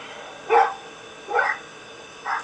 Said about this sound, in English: there's dog activity at the front, at the door